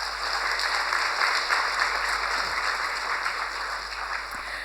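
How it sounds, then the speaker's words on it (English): An audience at a law university student induction ceremony for incoming first-year students claps steadily for the full few seconds, a dense, even wash of applause with no speech over it. "Give a clap to yourself, please."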